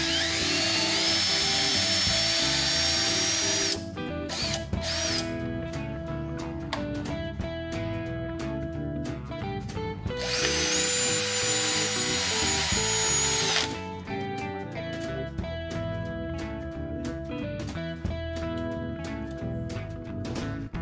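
A Porter Cable PCC620 drill drives a 2-inch wood screw in two loud whining bursts of several seconds each, its high motor pitch rising as the screw sinks, with quieter tool handling between them.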